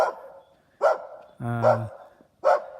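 A dog barking near a church in Mexico, four sharp barks spaced under a second apart, close and loud, one with a deeper growling undertone.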